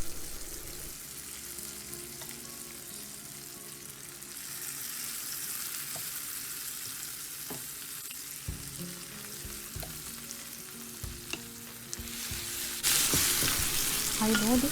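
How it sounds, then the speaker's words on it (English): Dal curry stirred into a fried mixture in a pan, a steady low sizzle with recurring spoon scrapes and knocks, growing louder and brighter near the end. "Now I mix dal with fried mixture and stir it well."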